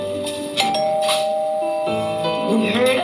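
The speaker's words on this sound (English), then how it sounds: "We heard another doorbell ring" A household doorbell rings with a clear multi-tone chime, its notes sustained and overlapping across a few seconds, loud and close with no talking.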